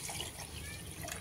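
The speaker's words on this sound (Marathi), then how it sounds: "तर पाणी टाकणार आहोत आपण" Water poured into rice while cooking jeera rice on a kitchen stove makes a soft, steady, splashing hiss, faint and brief, with no voices.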